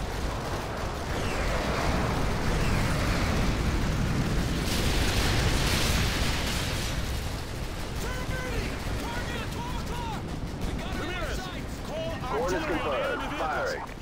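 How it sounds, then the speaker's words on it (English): Artillery strike explosions in Call of Duty: Modern Warfare 2, heavy rumbling booms and bursts filling the scene continuously for the whole stretch, loud and dense, with game radio voices talking over parts of it. "Artillery inbound."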